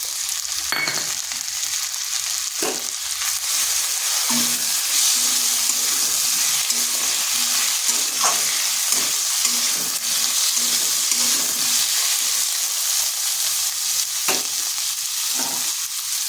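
Ginger garlic paste sizzles loudly in hot oil in a pan while being stirred, a steady close frying hiss broken by occasional scraping stirs and clinks, with no talking.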